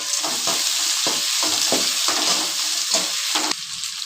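Onion, green chili and ginger fry in hot oil, a loud continuous sizzle broken by rhythmic scraping and stirring strokes in the pan.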